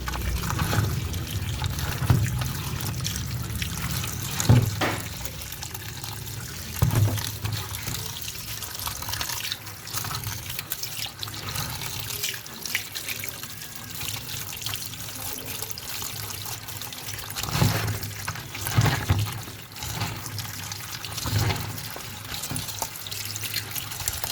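Tap water runs steadily over vegetables being washed in a sink, a continuous close splash and trickle with occasional louder clatters and sloshes as the pieces are handled.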